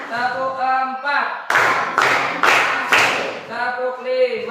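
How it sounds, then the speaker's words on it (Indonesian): Children clap in sharp bursts during a classroom counting clap routine before a lesson, several loud clap rounds alternating with a teacher's voice. "Tepuk 1, tepuk 2, tepuk 3, tepuk 4,"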